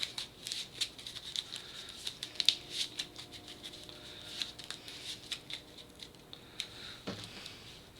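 Riffle shuffle of a deck of cards during a tabletop card game, a run of soft crisp flutters and taps at close range with no talking.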